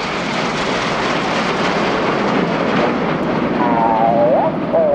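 A Red Arrows display jet passes at high speed at an air show, a loud, sustained roar that swells toward the end, with faint rising whistle-like tones near the close.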